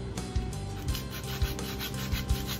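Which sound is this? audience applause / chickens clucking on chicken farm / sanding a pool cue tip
sanding a pool cue tip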